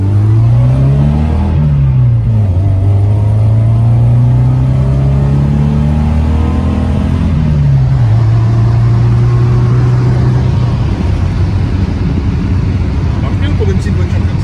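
A BMW 2002 Ti small car's engine hums and rises through the gears while driving, with clear up-and-down pitch sweeps over a steady road rumble, loud and close throughout.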